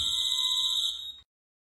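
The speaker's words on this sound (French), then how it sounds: "L'alarme s'est déclenchée." A house alarm goes off in the horror film Insidious: a steady, piercing electronic buzzer tone that sounds loud and continuous for just over a second, then cuts off abruptly into silence.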